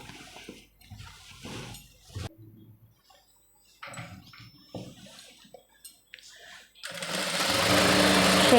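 A sewing machine stitches a fall onto a saree, whirring loud and close in one steady run that swells at the end, after a stretch of quiet handling and someone speaking Tamil.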